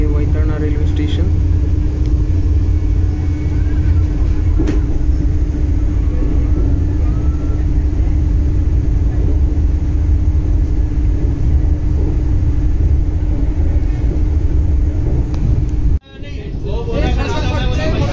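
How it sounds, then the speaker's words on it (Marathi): A Vande Bharat Express train runs over the Vaitarna river bridge, heard from inside as a loud, steady low rumble and roar that continues unbroken, then cuts out abruptly near the end. "आता आपली वंदे भारत वैतरणा नदीवरनं जात आहे."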